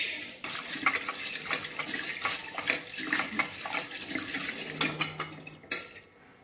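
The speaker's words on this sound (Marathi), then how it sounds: "आता आपण कुकरमध्ये ही डाळ धुवून घेऊ" Lentils being washed with water inside a pressure cooker, with steady splashing and sloshing plus occasional clinks of metal against the pot, close and continuous.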